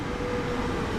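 Steady rumbling roar of a train running on the Hamburg–Lübeck main line in Train Sim World 2, a continuous, even drone from the cab with no clear breaks.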